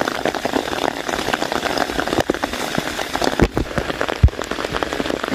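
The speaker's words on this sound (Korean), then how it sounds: "빗소리가" Steady rain pours down on a mountain hiking trail, a dense hiss of drops hitting a surface, close and loud throughout, with a faint engine rumble beneath.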